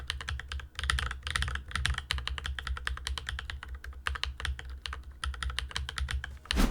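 Rapid, steady typing on a mechanical keyboard fitted with Gateron switches, dense clacky keystrokes in quick succession, close and alone with no talk.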